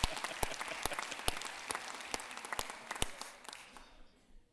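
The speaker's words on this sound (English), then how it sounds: "We're going to clap for you again." Bar association board members clap at their fall meeting, sparse separate handclaps standing out over a softer patter of applause that fades out near the end.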